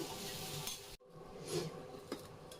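Potatoes being smashed and sautéed with peas in a pan on an induction cooktop, a soft sizzle under scraping stirs, with a brief dropout and a fan whirring in the background, faint and close.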